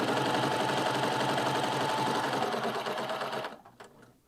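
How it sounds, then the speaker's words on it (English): A Baby Lock serger runs a chain stitch at a fast, steady whir, loud and close for several seconds before it slows and stops near the end. "So we're just going to do this chain stitch here."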